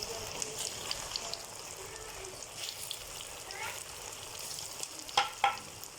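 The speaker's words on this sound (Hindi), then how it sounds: "ऑयल गर्म हो चुका है। अब मैं इसमें ये ढोकले डाल रही हूँ और इसे फ्राई कर लेती हूँ" Boiled potato dhoklay frying in hot oil, a soft continuous crackling sizzle with faint spatters, quiet and close, ending with two sharper clinks from a utensil.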